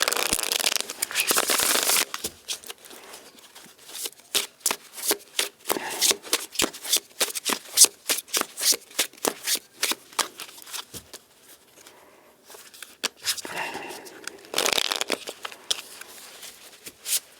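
A deck of tarot cards being shuffled close up, with rapid riffling bursts and crisp card flutters in uneven clusters, pausing briefly before another loud flurry of shuffling.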